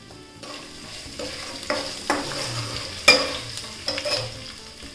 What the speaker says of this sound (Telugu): 2 ఎండుమిర్చి వేసి వేయించుకోవాలి. ఇంకా దీనిలో క్రష్ చేసుకున్న వెల్లుల్లి,